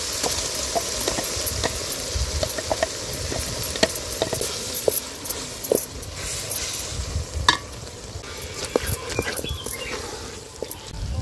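Ground masala paste sizzles and spatters in hot oil while a spoon stirs and scrapes the pan steadily, close and continuous, for a village-style methi and avarekalu pulav.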